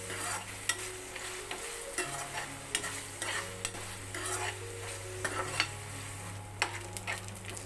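Ginger garlic paste frying with onions in a pan, a steady close sizzle with a spoon stirring and scraping in irregular taps throughout.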